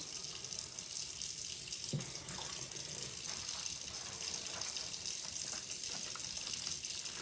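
Collard green leaves are rinsed in water at a kitchen sink, giving a steady close running-water wash with splashing throughout.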